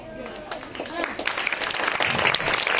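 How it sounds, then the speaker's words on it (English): A school group of children claps together in a Scout special clap, a dense burst of many hands slapping at close range that swells and stays loud for a few seconds, with voices mixed in. "Scout special clap."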